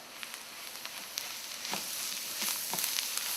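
Coriander powder and cayenne pepper frying in a pan for a Kerala fish curry, a soft steady sizzle with a few faint stirring ticks, close but quiet.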